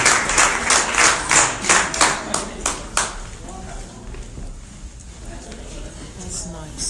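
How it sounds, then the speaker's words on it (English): A crowd at a college scholarship signing-day award ceremony claps in a loud, rhythmic burst that fades after a few seconds into softer scattered applause and murmuring voices. "round of applause."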